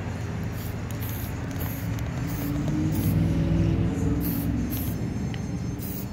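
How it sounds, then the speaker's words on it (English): Airbrush spray painting a BattleTech miniature, a continuous fine hiss with soft pulsing bursts close to the mic, steady throughout without speech. "Notice I am not stopping and spraying at it, so there's really fine detail."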